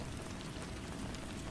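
Steady rain falls in a dense, even hiss with constant patter of drops on a surface, unbroken and fairly close, with no voices.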